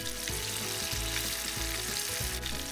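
Korean peppers coated in tempura batter fry in hot oil, giving a loud, steady sizzle with bubbling and a few soft knocks, close up and with no talk.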